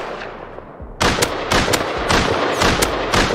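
Python revolver shots ring out in the video game Rust, a quick series of sharp, loud bangs after a brief quiet lead-in, close and without talk.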